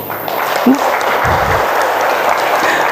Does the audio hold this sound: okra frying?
no